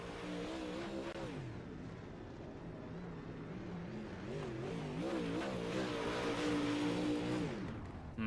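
UMP Modified race car engines at Fairbury Speedway in iRacing, several cars droning and revving together in a steady, continuous roar with rising and falling pitch.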